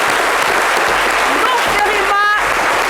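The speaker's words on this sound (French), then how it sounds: "Ça s'applaudit bien fort." Dense, steady applause from a French TV studio audience greeting the 2024 world slam poetry champion; a bright vocal exclamation rises through the clapping near the end.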